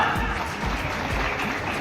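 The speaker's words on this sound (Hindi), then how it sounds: "क्या बात है, जोरदार तालियां" Applause at a Sai Samarpan Group community gathering, a steady wash of clapping from a seated crowd with low voices or rumble mixed in beneath it.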